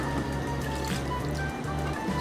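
Double-strength bonito soup concentrate pours and trickles steadily into a clay pot of rice up close, a soft gurgling fill with a faint hum underneath.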